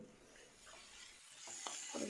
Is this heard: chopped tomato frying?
yes